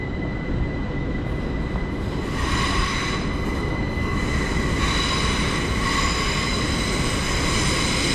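A Heathrow Express Class 387 electric train runs at London Paddington, a steady rail rumble with a high, ringing wheel squeal that swells in several waves, fairly close, with no voices.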